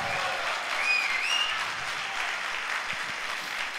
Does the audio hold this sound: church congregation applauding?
yes